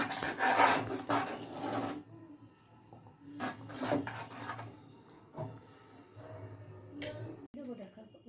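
Carrot kheer thickened with rice flour being stirred in a pot, with repeated scraping rasps and occasional clinks of the spoon against the pot, under a speaking voice.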